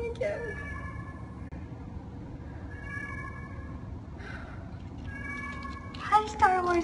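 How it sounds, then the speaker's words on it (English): A cat meows several times at an animal shelter, with drawn-out tonal cries spread across the clip and a louder cluster near the end, under low background hum and some nearby talk. "Shiraz is meowing again."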